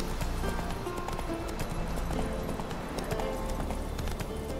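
Horse galloping in The Witcher 3, a steady rapid clip-clop of hooves over a continuous game soundscape, running throughout at even loudness.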